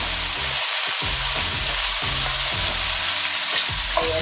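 Peppers fry with mushrooms in an oiled pan, a loud, constant close sizzle with occasional scraping stir sounds and no one speaking.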